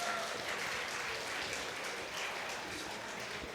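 Steady applause from a high school retreat congregation fills a hall as a pastor comes forward, a dense even patter of many hands with a faint murmur of voices underneath.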